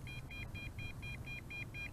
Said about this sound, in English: And it is continuing to beep.